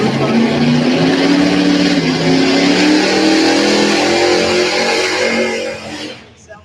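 A 1965 Chevrolet Chevelle drag car with a big rear tire at a drag strip, its engine loud and close, revving steadily in a rising and falling roar before cutting off near the end.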